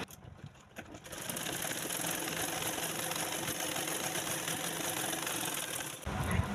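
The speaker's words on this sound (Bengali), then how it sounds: "এবার আমি সেলাইটা করে দেখাচ্ছি।" A sewing machine stitches fabric in a fast, steady whirring run that lasts several seconds, then stops with a short clunk. It is heard close and alone.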